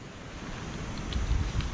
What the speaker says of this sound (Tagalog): sobrang lakas ng hangin sa kabila